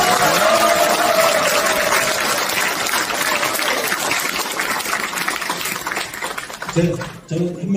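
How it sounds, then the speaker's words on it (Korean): Applause for the mayor at a public ceremony, dense clapping from a large crowd held loud and steady throughout, thinning briefly near the end. "유정복 시장님께 다시 한번 뜨거운 박수를 부탁드리겠습니다"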